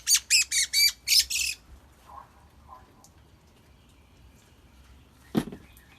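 A wild bird squawks in a rapid burst of five or six harsh, loud calls while held for measurement during banding, then goes quiet. Faint handling noises follow, and a sharp final squawk comes near the end.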